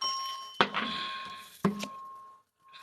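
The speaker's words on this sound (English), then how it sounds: "Why did it hit the bell?" Two sharp, clear bell dings, close and moderately loud, each ringing out with a long fading tail, and a third strike just beginning at the end; no one speaks.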